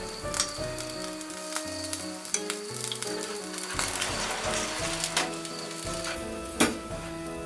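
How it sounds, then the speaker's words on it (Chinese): Garlic-sauce-topped oysters sizzle steadily under an overhead-flame grill oven at a home balcony barbecue, a continuous close crackling hiss with occasional sharper pops and no talk. "蒜蓉酱的油滋滋作响，但却没有什么油烟"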